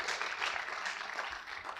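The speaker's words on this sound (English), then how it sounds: "It's nice to get a clap, Mick," Brief clapping from an audience at a SEVENTEENx Sydney talk, a soft, fairly distant patter of many hands that holds steady for under two seconds.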